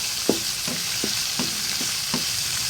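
Tomatoes sautéing in a pan for ginisang kamatis with cabbage, a continuous close sizzle broken by a regular series of spatula scrapes and taps, about two per second, with no talking.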